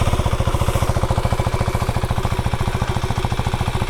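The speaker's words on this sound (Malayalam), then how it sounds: "ഇതിൻ്റെ എക്സോസ്റ്റ് നോട്ട് കൂടെ ഒന്ന് കേട്ട് നോക്കാം" Close, steady idle of a Husqvarna Svartpilen 401 motorcycle exhaust, an even rapid thumping pulse with no revving and no voices.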